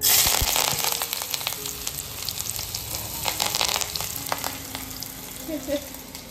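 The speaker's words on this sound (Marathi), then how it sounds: "पहिले तेल छान गरम झाले, त्याच्यामध्ये मी बारीक चिरलेला कांदा, कढीपत्ता आणि लसूण ऍड करते" Finely chopped onion, curry leaves and garlic fry in hot oil with a busy sizzle and crackle, scattered pops and stirring scrapes, loud at first and easing slightly.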